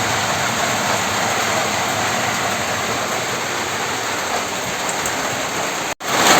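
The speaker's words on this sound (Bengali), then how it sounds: "তো ফাইনালি ভালোই বৃষ্টি শুরু হয়ে গেছে" Heavy rain pours down in a village, a dense, loud, steady hiss of drops on surfaces that fills the whole stretch without a break, with no voices over it.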